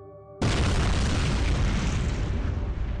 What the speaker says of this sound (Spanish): una explosión a una cuadra del supermercado sacudió la habitación